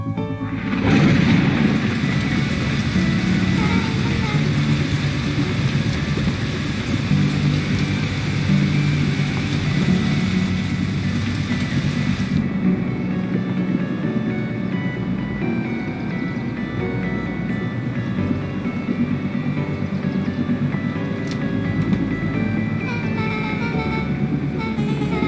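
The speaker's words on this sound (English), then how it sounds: "At that moment, the heavens opened up, unleashing torrential rain." Heavy torrential rain pours steadily in the video game Beacon Pines, a dense continuous wash with low rumbling beneath, its bright hiss thinning partway through while the downpour carries on.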